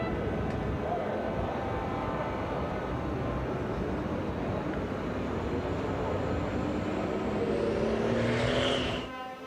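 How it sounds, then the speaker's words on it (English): Racing trucks from the French Truck Racing Championship rumble out onto the Le Mans circuit, a loud, continuous engine roar that holds steady and rises near the end before cutting off. "You can hear some of the trucks now making their way out for the French Truck Racing Championship"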